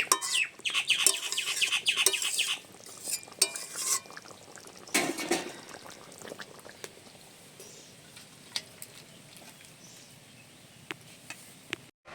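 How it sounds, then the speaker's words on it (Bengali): A spoon scrapes and clinks against a pan while fish curry with okra is stirred, irregular metallic taps and scrapes that are busiest early and then thin out, with birds chirping in the background. "এবারে আমি এভাবে একটুখানি নেড়ে চেড়ে নিচ্ছি।"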